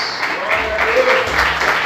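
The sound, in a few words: congregation applause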